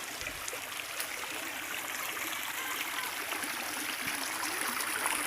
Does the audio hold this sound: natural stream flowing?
yes